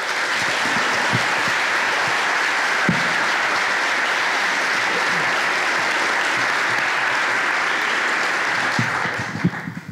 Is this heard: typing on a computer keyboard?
no